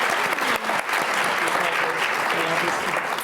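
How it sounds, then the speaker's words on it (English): An audience gives a big round of applause for a panel at an evening discussion, with loud, dense clapping filling the room and a faint voice underneath. "So let's start with a big round of applause."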